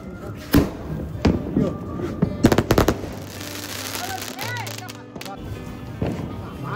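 Fireworks go off during Diwali and Kali Puja celebrations, with sharp nearby bangs and a quick crackling cluster of pops, while people talk and call out amid the noise.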